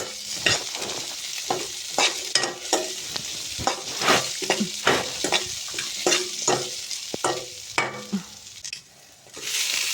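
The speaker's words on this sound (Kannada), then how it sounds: "ಈಗ ಎಲ್ಲವನ್ನು ಸ್ಲೋ ಫ್ಲೇಮಲ್ಲಿ ಸ್ವಲ್ಪ ಫ್ರೈ ಮಾಡಬೇಕು" Tamarind and masala fry over a slow flame for an egg green masala, a close sizzle under a busy run of spatula scrapes and knocks against the pan in an irregular rhythm, with no voices.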